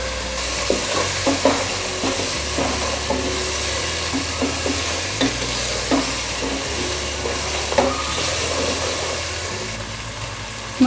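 Green chillies and red chilli flakes fry in a masala base for beef yakhni pulao, a steady close sizzle with repeated stirring scrapes and clinks throughout, no voices.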